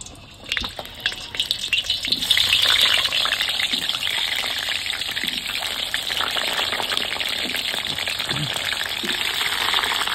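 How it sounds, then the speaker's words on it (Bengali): Potatoes fry in hot oil in a home kitchen while a chicken curry is prepared, giving a steady, close, loud sizzle with a bubbling gush that swells after the first couple of seconds and holds throughout, with no talking. "আলু ভাজা করে নেবো।"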